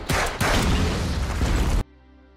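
A large explosion in an action film roars as a loud, sustained blast with a rumbling tail that cuts off abruptly, following gunfire.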